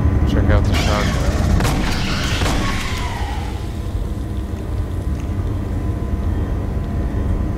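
Shotgun blasts in Aliens: Colonial Marines ring out in a few sharp, loud reports early on, then give way to a steady rumbling game background with a voice talking over it.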